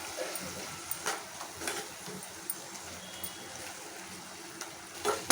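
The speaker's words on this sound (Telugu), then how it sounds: "ఇవన్నీ ఒకసారి ఇట్లా కలుపుకోవాలి" Onion, garlic and coriander being stirred as they fry in a pan, giving a soft steady sizzle with faint scraping and occasional light knocks of the spoon, fairly quiet throughout.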